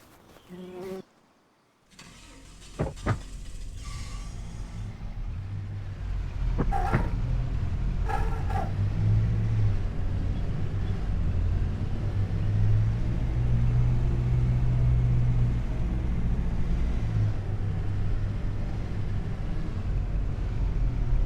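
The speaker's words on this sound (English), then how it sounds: "And last one in is going to be the Universal tractor." An old Universal tractor engine idles and runs on a farm. A steady low rumble and drone holds for most of the stretch after a few brief knocks and clanks near the start.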